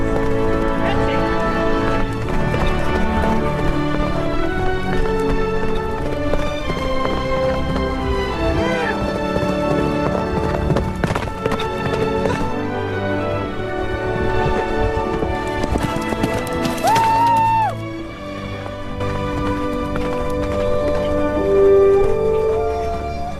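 A recording of horses galloping with clip-clop hoofbeats and an occasional whinny plays loudly and steadily for over twenty seconds, mixed with music and a speaking voice.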